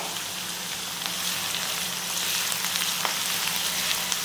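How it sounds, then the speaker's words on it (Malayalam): Ginger and garlic fry in a pan of hot oil, a steady close, rain-like sizzle that thickens slightly partway through, with a faint tap or two and nobody speaking. "ഇഞ്ചി വെളുത്തുള്ളി നല്ലോണം മൂത്ത്"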